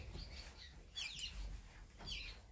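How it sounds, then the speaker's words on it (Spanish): Swallows chirp in a dark cave in northern Puerto Rico, with two bursts of high, bright twittering over a low, steady rumble of background noise. "Y están las golondrinas, que están hermosas en un lugar tan oscuro"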